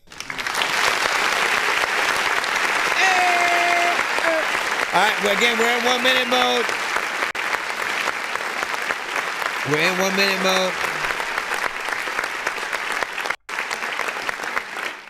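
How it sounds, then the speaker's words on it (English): An audience claps continuously and densely at a live music review show, with a voice talking over the applause throughout. "Now we clap."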